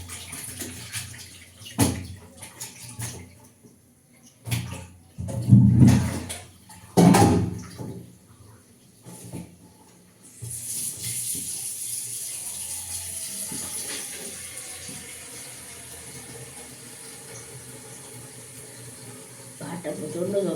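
Tap water runs steadily in a kitchen sink while fish is washed for a home meal, a continuous broadband rush after earlier clatter and brief knocks, with a voice talking at the start.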